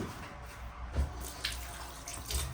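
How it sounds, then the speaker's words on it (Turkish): Water runs from a kitchen tap for hand washing, a soft, fairly quiet stream with a few splashes and clunks close by, and no talking. "Elimi de bir yıkayayım."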